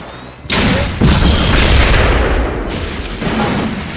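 A house explosion set off on a film set bursts with a deep, loud boom, then a second heavier blast, followed by a long roaring rumble of debris that slowly fades.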